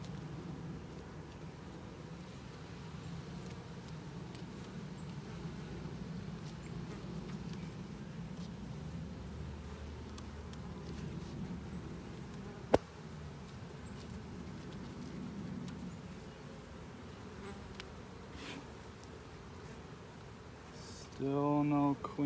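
A bee swarm drones around an opened hive in a dense, continuous buzz close by, with a sharp click midway and a brief clatter of handling at the end.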